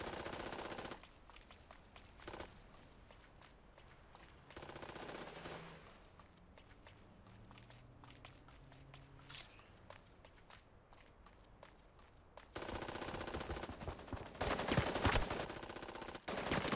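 Gunfire in the video game Super Mecha Champions, with bursts of rapid shots and footsteps running between them, some volleys loud and close, others quieter and farther off, with no talking.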